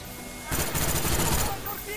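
Automatic weapon spray fire in Call of Duty Black Ops, a sustained rapid burst of roughly one second that stands out loud against quieter game ambience.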